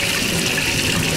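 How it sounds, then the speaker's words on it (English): Water from a kitchen tap runs in a loud, steady gush as brown sugar is rinsed off a rainbow trout, close and continuous with no pauses. "So, I'll just wash all that brown sugar off of there."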